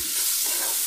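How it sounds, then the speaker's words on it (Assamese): Tomato fish curry masala with Boriyola fish, salt and turmeric, stirred in a pan over low heat: a brief, steady wet scraping and soft sizzle, close and alone without voices. "এতিয়া আকৌ এনেদৰে ভালকৈ মিলাই ল'ম।"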